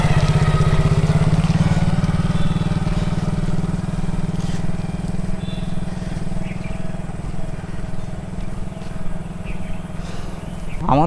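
A motorcycle engine runs steadily while a learner rider changes gear, a constant low drone that shifts pitch slightly near the start, with faint voices in the background.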